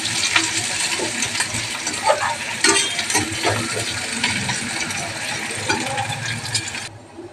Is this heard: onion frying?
yes